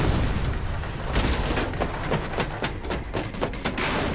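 Missile strike in a Jujutsu Kaisen anime fight, a loud dense blast with heavy booming rumble and scattered crashing debris bursts, continuing throughout with no voices.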